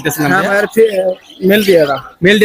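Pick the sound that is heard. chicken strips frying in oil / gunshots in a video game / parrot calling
parrot calling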